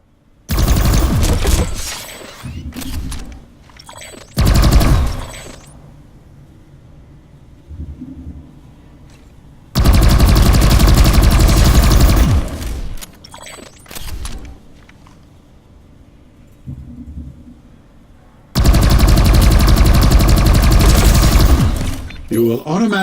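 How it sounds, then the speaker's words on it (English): Rifle fire in the video game PlanetSide 2: loud, close bursts of rapid automatic shots in three long volleys, with quieter clicks and sparse single shots in the gaps. "Try shooting some targets while aiming down sights."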